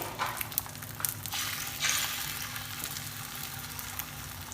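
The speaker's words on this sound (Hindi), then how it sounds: "इसको अब हम ऑमलेट की शेप में कर लेंगे फ्राई" Egg batter shaped like an omelette fries in an oily pan, giving a soft, steady sizzle with a few sharp crackles and spatters up close, fairly quiet and alone.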